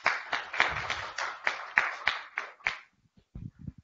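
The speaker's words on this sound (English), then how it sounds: "A round of applause for them." Brief clapping from an audience at a university fashion show, a handful of distinct claps that trail off after about three seconds, followed by faint scattered sounds.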